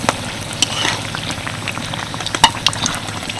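Banana-leaf-wrapped teatime tiffin frying in hot oil over a low-medium flame, a steady close bubbling hiss with scattered sharp pops and crackles.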